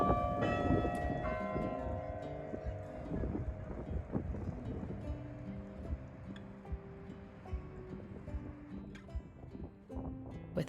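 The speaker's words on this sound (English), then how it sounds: "you can catch the chimes ring on the hour and quarter hour" Carillon chimes ring out on the hour and quarter hour in Washington, D.C., a series of resonant bell strikes with long sustained overtones layered over one another, heard outdoors amid light wind.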